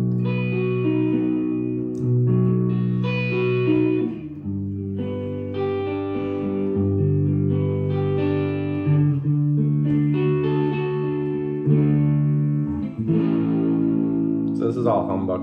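2024 PRS SE Swamp Ash Special electric guitar on its humbuckers, run through a Headrush MX5, rings out in sustained, slightly distorted chords with effects, changing every second or two, steady and close with no talking.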